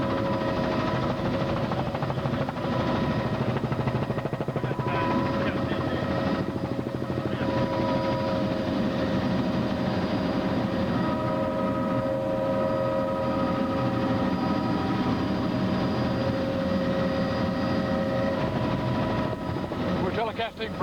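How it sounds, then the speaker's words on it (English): A Georgia State Patrol helicopter flies over the 1994 Lake Blackshear flood, its engine and rotors making a loud, steady, continuous droning roar that fills the whole stretch without a break. "Telecasting from the helicopter from Georgia State Patrol."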